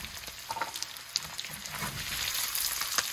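Soft, steady sizzling of spices frying in a pan, turmeric, pepper powder, chili powder and salt crackling quietly with scattered pops and no talking.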